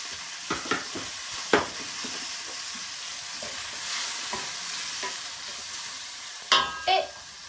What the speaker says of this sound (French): 5-6 minutes que mon porc est en train de cuire